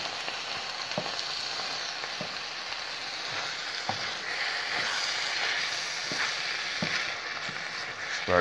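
Spaghetti bolognese sauce bubbles and sizzles steadily in a pan while a spoon stirs through it, with soft repeated scrapes and clicks against the metal, close and continuous without any talk.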